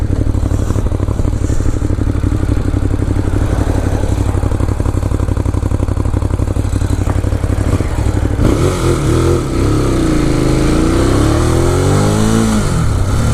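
A 2018 Ducati Monster 821 ridden through the English countryside, its engine a loud, continuous throb heard close up, with wind rush and rising, falling revs as the bike accelerates and shifts.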